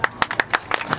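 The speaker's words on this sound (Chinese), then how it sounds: "可以拍手吗？" An audience claps in a light, uneven patter of about seven or eight distinct claps over a second, close and moderately loud, at a street singing performance.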